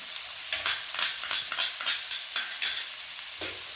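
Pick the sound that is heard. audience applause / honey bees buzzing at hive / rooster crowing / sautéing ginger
sautéing ginger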